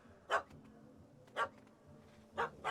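A puppy in The Witcher 3: Hearts of Stone gives three short, evenly spaced yappy barks, moderately close and otherwise alone against quiet ambience.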